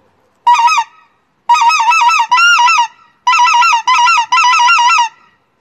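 A goose call mimics geese during a hunt, blowing a series of loud, close honks, one single call, then two runs of rapid honking separated by brief pauses.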